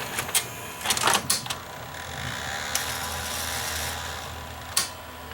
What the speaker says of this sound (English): If that looks like a Betamax threading up, it's because it's exactly the same as a Betamax.